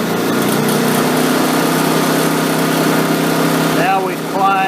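A WEN 56225i inverter generator runs under load in parallel mode, its engine a loud, steady drone that holds throughout and dips briefly near the end.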